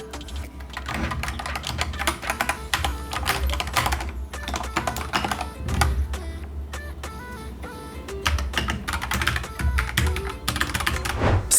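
Rapid, steady keystrokes on an Akko 5108S keyboard with linear pink switches rated at 45 grams, giving a continuous, moderately quiet clacking with no talk over it.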